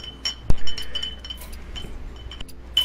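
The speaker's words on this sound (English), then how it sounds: "hear lots of bottle clinking" Glass bottles clink a few times in sharp, isolated knocks, fairly faint and spaced apart against a quiet background.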